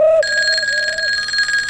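A telephone rings loudly and steadily, its electronic bell tone close and continuous for under two seconds, with no voices over it.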